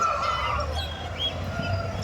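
Roosters and hens at a rural poultry market in Kundarapalli cluck and crow close by, several birds calling at once in a continuous busy chatter.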